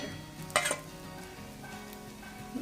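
Oil drizzled around a dosa on a hot pan gives a soft, steady sizzle, with a brief clink of a utensil near the start and quiet stirring scrapes; no one speaks.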